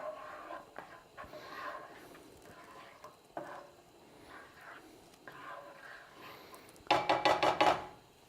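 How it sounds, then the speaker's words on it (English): A spoon stirs a roasted garlic and tomato pasta sauce with chopped fresh basil in a pan, ending in a loud, rhythmic burst of scraping and wet sloshing after a few seconds of quiet kitchen ambience. "I'm going to give this a final stir."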